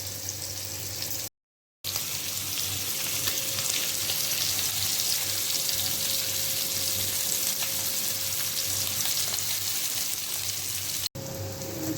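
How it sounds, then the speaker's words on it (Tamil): Fish fry cooking in hot oil, a dense loud crackling sizzle like heavy rain that runs continuously with a brief silent break near the start, no voices. "இப்போ ஃபிஷ் ஃப்ரை வந்து சூப்பராக ரெடி ஆகிடுச்சு."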